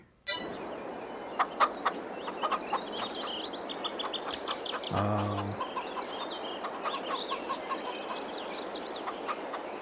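A flock of seven chickens and a rooster in Farming Simulator 22 on PS5 give scattered clucks and squawks over a steady farmyard background. A brief low tone sounds midway, with no speech.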